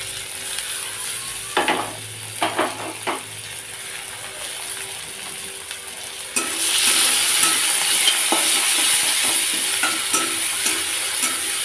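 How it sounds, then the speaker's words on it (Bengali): Chopped onions frying in a pan with a steady sizzle, broken early by a few scraping stirs, then the frying swells louder and brighter for the rest, close by with no talk. "দিয়ে দিচ্ছি পেঁয়াজ কুচি পেঁয়াজ কুচিটা হালকা লাল হয়ে আসছে"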